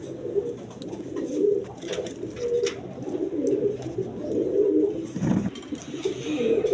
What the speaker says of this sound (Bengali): এখানে এক পেয়ার কালদম কবুতর